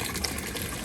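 A small pump in a galvanized stock tank garden pond pushes out water in a continuous close splashing gush, steady throughout with no talk.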